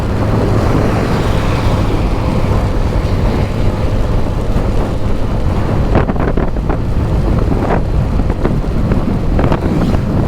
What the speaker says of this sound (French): Oh c'est quoi ce vent. J'ai jamais vu ça.